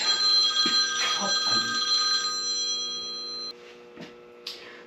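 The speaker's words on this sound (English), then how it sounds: "So my phone rang before I cut the video off." A mobile phone rings with a steady electronic tone in a garage during Beta 390 Race Edition dirt bike grip work, loud at first, then fading and cut short, with faint clicks after.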